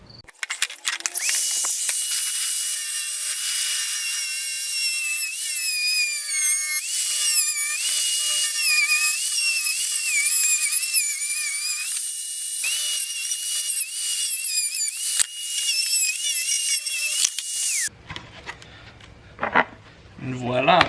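A power tool cutting a straight line through a car interior trim panel during a roll bar install in a Miata, a loud high-pitched whining buzz that rises and falls in pitch for about seventeen seconds, then stops abruptly leaving faint handling noises.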